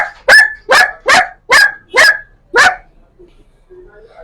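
A child on a talent stage imitating a barking dog with six loud, evenly spaced woofs about half a second apart, followed by a faint whimpering tail.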